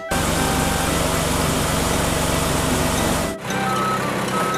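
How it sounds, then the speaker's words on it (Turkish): An asphalt paving machine drones steadily with a high engine whine and intermittent beeping, loud and close, briefly dipping before resuming. "Bu bir asfalt makinesi. Asfalt makinesi."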